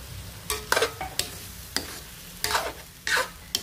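Sardines being stirred in a hot frying pan: several short scraping strokes of a utensil, irregular and close, over a faint steady sizzle.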